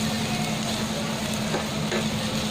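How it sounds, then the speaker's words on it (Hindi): Onion and coconut roasting in a pan while being stirred make a steady, dense sizzle with faint scraping, close and unbroken for the short stretch, with a low steady hum underneath. "अभी ये खोपरे को भी अच्छे से भूनेंगे"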